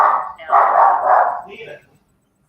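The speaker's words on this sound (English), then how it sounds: "dogs are barking" Dogs barking close and loud in a few overlapping yaps and bow-wows, mixed with voices, then a sudden stop into near silence.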